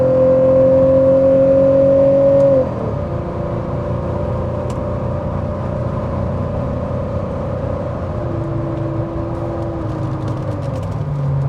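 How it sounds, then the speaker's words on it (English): A Porsche climbs a hill as its automatic transmission kicks down into third gear. A loud, steady engine drone drops in pitch after a couple of seconds and then holds under continuous road noise. "She senses the hill and she's gonna stay in third gear."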